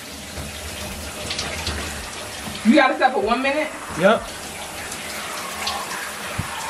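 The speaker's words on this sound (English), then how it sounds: "This water feels good because it's cold in the house." Cold tap water gushing and splashing in a house, a steady rushing stream under excited voices, with louder bursts of talk and laughter midway before the water settles back to a constant hiss.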